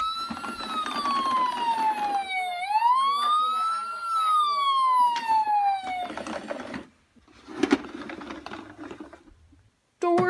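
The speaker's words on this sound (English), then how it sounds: "The ambulance is on its way." An ambulance siren wails loudly nearby, its pitch sweeping down and up in long glides, then cuts off, followed by clattering mechanical noise and brief pauses.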